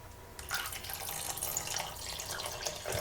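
Water poured over beans in a kitchen, a close, trickling stream starting after a brief pause and running steadily with small splashes, no speech.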